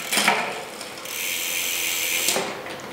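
Bicycle rear derailleur shifting across the cassette, a close clicking ratchet of the freewheel with a whirring drivetrain and sharp shift clicks near the start and end.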